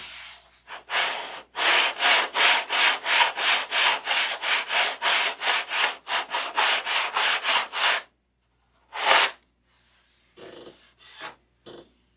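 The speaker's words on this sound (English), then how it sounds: "So not only is sanding about feel and sight, it's all about sound too." Rhythmic back-and-forth scratching of sandpaper on wood, about a dozen quick strokes, then a pause and a few scattered rubs.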